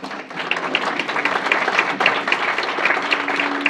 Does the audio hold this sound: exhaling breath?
no